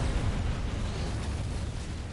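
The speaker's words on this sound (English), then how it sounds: "Explosion." Explosion in a video game, a dense, broadband rumbling blast that sustains without a break for the whole moment, loud and without talk.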